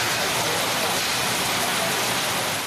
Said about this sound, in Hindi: कसूर में सुबह गरज चमक के साथ मौसलाधार बारिश और झालाबारी से मौसम खुशगवार हो चुका है।